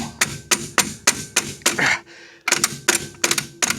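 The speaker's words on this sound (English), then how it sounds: "That's what the little rubber mallet's for, so you don't damage it when you're tapping around the edge there." Sharp, regular taps of a rubber mallet strike in quick succession around an edge on a Plymouth Barracuda, pausing briefly before the rhythmic knocking resumes, close and fairly loud.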